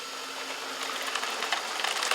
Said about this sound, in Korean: 자, 로봇 청소기 준비. 롤!